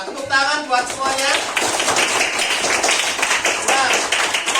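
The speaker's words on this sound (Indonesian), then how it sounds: "Tepuk tangan buat semuanya." A primary school class clapping hands for everyone in an Indonesian classroom, a burst of many hands in quick rhythmic claps mixed with children's voices calling out at the start.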